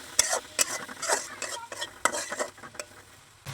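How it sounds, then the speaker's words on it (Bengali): Spices being stirred into bottle gourd and shrimp in a hot pan, with a spatula scraping in quick irregular strokes over a steady sizzle and an occasional metallic clink, close and fairly loud with no talking. "এখন নাড়িয়ে ছাড়িয়ে মিশিয়ে নিব মশলাটা"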